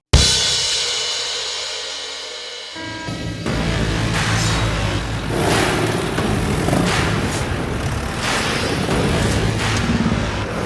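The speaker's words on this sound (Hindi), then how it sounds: "गाड़ी की आवाज, लगता है आगे आ रहा हूँ।" A loud, steady vehicle engine rumbles close by after an abrupt start, a broad continuous roar that holds for several seconds with no talking over it.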